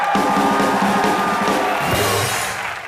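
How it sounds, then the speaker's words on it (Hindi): A studio audience claps and cheers loudly for actress Gauahar Khan on a comedy show, a dense, steady roar of applause with whoops that eases slightly toward the end. "एक बार गौहर खान के लिए जोरदार तालियां"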